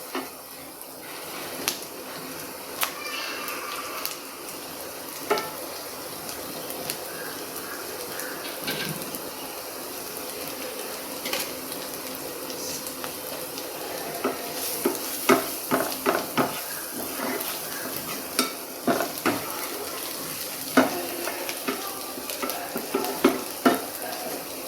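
Ponnanganni cheera spinach stir-fries in a hot pan with chili powder for a thoran, giving a steady sizzle and repeated scraping stirs and utensil taps that grow busier toward the end.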